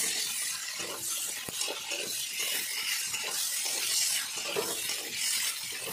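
Lanka chicken sizzles steadily in a hot pan as it is fried, with continuous crackling and repeated scraping strokes of a spatula stirring through it, close and fairly loud, no talk.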